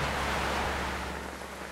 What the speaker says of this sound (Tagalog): Nabot naman po kami ng ulan dito sa inyo.